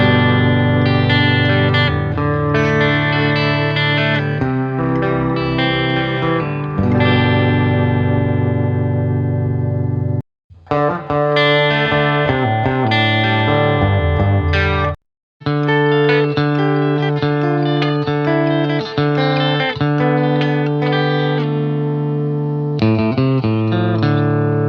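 Electric guitar played through effects and spread across a stereo field, sustained distorted chords and notes with chorus and reverb, loud and continuous apart from two brief silent breaks.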